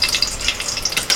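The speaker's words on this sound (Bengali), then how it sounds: "কড়াইতে তেল দিয়ে তেলের মধ্যে ফোড়নে দিচ্ছি তেজপাতা, শুকনো লঙ্কা" Bay leaves and dried chillies tempering in hot oil in a wok, giving a steady close sizzle and crackle with small bright pops scattered through it and no voices.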